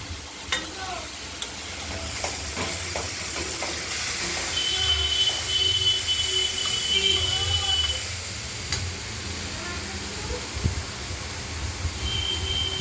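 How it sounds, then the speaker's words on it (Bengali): Thin strips of pumpkin and bitter gourd fry in hot mustard oil, a steady sizzle under repeated scrapes and taps of a spatula stirring the pan, with occasional clinks close by. "উচ্ছে কুমড়োগুলো আমরা নাড়াচাড়া দিয়ে নিচ্ছি।"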